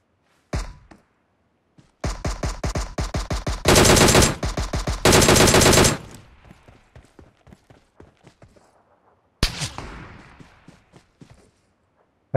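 Gunfire in PUBG Mobile: single loud shots, then a rapid string of automatic fire with dense, heavy bursts, fading into softer thuds and ending with one more sharp volley. Nobody speaks.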